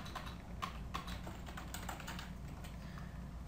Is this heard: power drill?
no